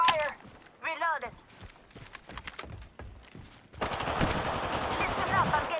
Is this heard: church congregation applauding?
no